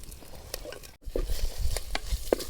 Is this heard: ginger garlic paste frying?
yes